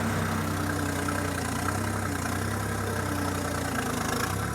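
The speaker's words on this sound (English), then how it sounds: "I can run it on idle with the increased hydraulic flow. I can just have it idling here." Heavy machine engine idling with increased hydraulic flow, giving a steady, continuous low rumble with a constant mechanical drone throughout and no talking.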